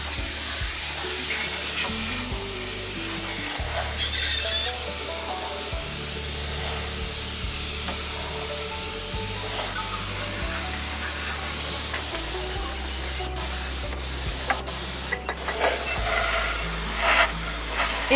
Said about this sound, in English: Inner cavities and panel seams are sprayed first, because they become difficult to reach once the body is assembled.